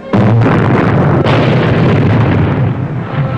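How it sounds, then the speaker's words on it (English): A naval torpedo explosion sinking a wartime transport ship, heard as a loud, sustained rumbling blast that fills the whole clip and slowly fades toward the end, with no talk. "the S-38 managed to infiltrate a convoy and saw its remaining torpedoes sink one transport and damage another"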